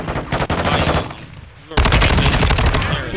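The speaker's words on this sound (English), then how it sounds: "I'm getting shot at" Video game gunfire, rapid automatic bursts crackling loudly, a pause with quieter shots, then a heavy sustained burst of machine-gun fire.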